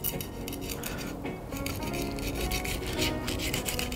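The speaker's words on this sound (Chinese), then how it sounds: "从这个尾部给它片开" A kitchen knife slices raw shrimp open lengthwise from the tail while preparing shrimp congee, giving close, continuous scraping and rasping against the shell and cutting board for a few seconds, with no voices.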